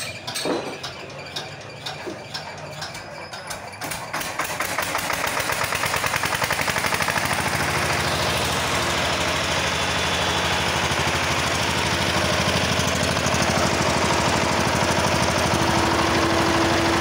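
An old 10 kVA Atul Shakti diesel generator cranks with rapid clattering bursts, then self-starts and settles into a loud, steady running rumble close by, with no voices.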